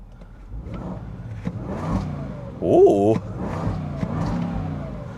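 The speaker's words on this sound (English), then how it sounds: "Let's go to dynamic, give it a couple revs" Supercharged V8 in a 2026 Land Rover Defender 110, set to dynamic mode, revving briefly at a standstill with a rising whine near the middle of the clip, over a steady engine drone and a short spoken exclamation.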